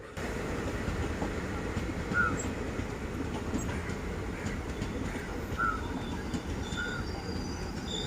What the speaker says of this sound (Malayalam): ഈ കോഴിക്കോട് കണ്ണൂർ പാസഞ്ചർ ട്രെയിൻ നമ്മുടെ വെള്ളയിൽ റെയിൽവേ സ്റ്റേഷനിൽ സ്റ്റോപ്പുണ്ട്